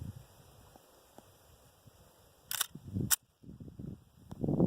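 Rapid shots from an FN FNP-9 9mm pistol, two sharp loud cracks in quick succession followed by some rumbling handling noise, with no talk over them.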